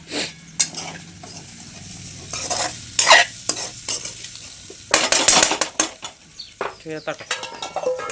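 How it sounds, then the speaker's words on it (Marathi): A spoon scrapes and stirs sabudana around a cooking pan, with soft sizzling beneath. Close, irregular scraping strokes and clinks come in bursts, loudest around the middle. "आणि नंतर शाबू हलवते"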